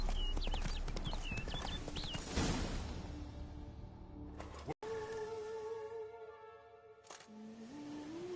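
Roach the horse galloping in The Witcher 3, rapid rhythmic hoofbeats with clip-clop thuds under game ambience, followed by a brief pause and tonal game sounds.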